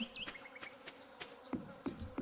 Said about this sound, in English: The noise makes me think of bees.